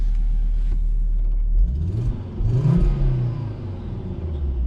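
A Volvo S60R engine idles with a low steady rumble, then revs up in two rising and falling sweeps, heard loud and close from inside the car with the windows shut.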